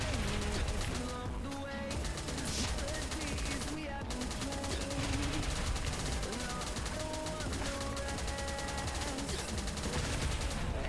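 Rapid bursts of machine-gun fire in the video game Last Day on Earth rattle continuously over a busy mix of game music and effects, loud and dense throughout.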